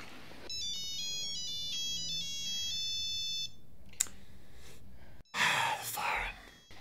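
A phone ringtone from the 2003 film Love Actually plays as a bright repeating electronic melody for several seconds, followed by a sharp click, breathy sounds and a loud burst of noise.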